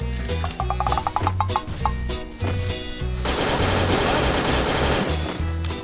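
Video game gunfire with a dragon airdrop in a shooter, heard as loud rapid automatic bursts, then a dense sustained barrage in the second half, all close and dominant.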